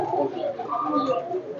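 A pigeon coos in a low, soft, warbling call held steadily for under two seconds, close by.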